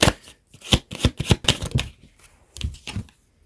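A deck of tarot cards is shuffled close by in a quick series of crisp riffling flutters and taps, with short pauses between bursts.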